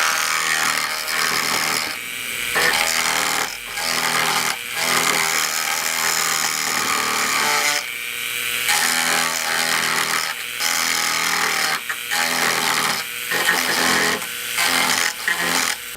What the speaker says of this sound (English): We basically have to drill